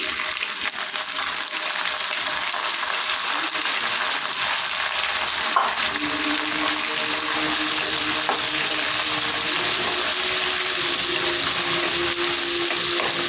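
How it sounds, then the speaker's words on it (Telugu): Boiled violet broad beans frying with onions in a pan, a steady broadband sizzle holding throughout at close range, with a faint tone drifting in midway and no voices. "మనం ఉడకబెట్టుకున్న చిక్కుడుకాయలు వేసుకుందామండి"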